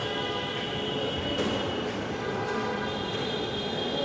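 A metro train at Shahbag metro rail station produces a steady, loud rumble with a faint high whine running through it, heard continuously without any talk.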